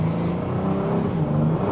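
A 2025 Honda Odyssey Elite minivan with a ten-speed automatic accelerates, its engine giving a steady, rising hum heard from inside the cabin, with no talking over it.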